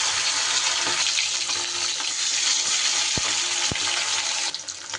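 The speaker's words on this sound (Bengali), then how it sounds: "তেল গরম হয়ে গেলে আমি এর মধ্যে এবার মাছগুলো ভেজে নেব।" Pomfret pieces frying in hot rice bran oil in a wok: a loud, dense, continuous sizzle and crackle filling the whole stretch, with a few soft clinks near the end.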